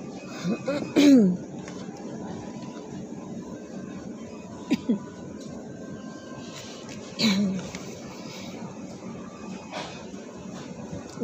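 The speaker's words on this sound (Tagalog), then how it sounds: "Di na nawawala ng ubo ko." A couple of short coughs or throat clears break through a quiet room hum, spaced several seconds apart.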